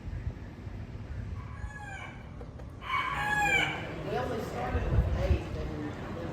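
Chickens at a county fair 4-H poultry show crow in two or three stretched calls, the loudest and nearest in the middle, over a busy background of talking voices and crowd murmur.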